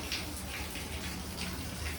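Rainwater leaking into a house trickles and splashes steadily, with soft repeating drips over a constant low wash.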